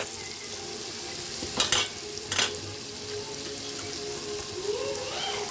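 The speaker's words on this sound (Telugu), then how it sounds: "చాలా చక్కగా మగ్గిపోవాలి ఉల్లిపాయ, లేకపోతే బాగోదు ఫ్రెండ్స్ కర్రీ" Onions soften in a pan of hot oil for a dried fish curry, giving a steady close sizzle broken by two short scraping bursts from a stirring spoon.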